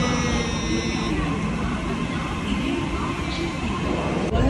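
A loud, steady rumble of a metro train arriving at a station in Mumbai, with a high whine and constant mechanical roar throughout, people faintly audible in the background.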